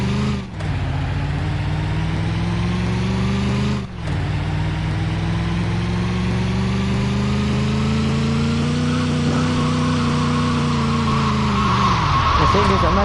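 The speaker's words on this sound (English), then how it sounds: "The thing is, I'm not even trying to drift it." A Roblox car skids and drifts around a track in a video game, a loud sustained engine drone with long tire squeals, two brief dropouts, and a rising screech near the end while someone talks over it.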